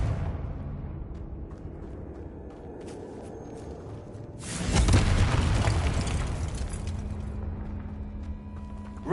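Confringo blasting spell going off in Hogwarts Legacy, a loud rumbling burst midway that swells and slowly fades over low background ambience.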